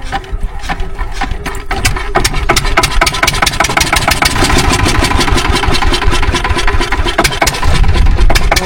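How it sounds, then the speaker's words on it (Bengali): An engine turns over and settles into a steady idle, a loud, continuous rhythmic chugging close by that runs through the whole stretch, heard during a crab-catching outing. "তো পরেশ ভাই স্টার্ট করছে"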